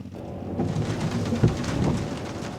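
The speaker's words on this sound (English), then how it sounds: "We've got a little bit of rain." Rain from the SOL weather mod in a driving video game falls as a soft, steady patter across a wide background wash, with no talking.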